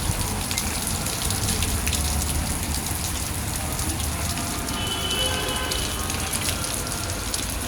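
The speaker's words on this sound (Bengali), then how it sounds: "আমাদের এখানে অনেক বৃষ্টি হচ্ছে।" Heavy rain pours down in a dense, unbroken roar with constant patter and splashing on surfaces, loud and steady throughout, with no voices.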